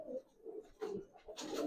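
Pigeons coo in a home loft among a pair of young, restless silver lalpaoi bagha birds: soft, throaty coos repeat close by, rising into louder bursts toward the end.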